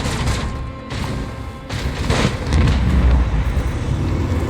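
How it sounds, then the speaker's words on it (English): Dorsal cannons firing in a starship battle in the Warhammer 40k Rogue Trader video game, a dense run of booming blasts and rumbling impacts that swells louder toward the end. "Dorsal cannons. Target that thing."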